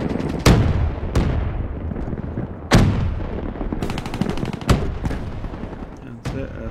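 Assault rifle fire in Call of Duty Black Ops 3, several loud sharp bursts and single shots at irregular intervals, with a dense wash of game combat noise between them.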